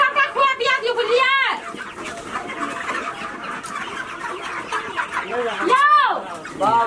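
On a chicken farm, chickens cluck and squawk in sharp, repeated bursts close by, with louder calls near the start and end, while people talk over them.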